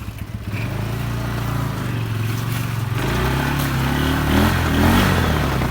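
An ATV engine runs steadily through a mud riding test, a low continuous drone that swells slightly in the last couple of seconds as throttle rises, with no talking over it.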